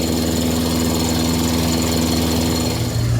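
Briggs Quantum engine on a vintage 1980s Toro Recycler aluminum lawnmower running steadily at low RPM, a close, loud, continuous rattling drone with no voices.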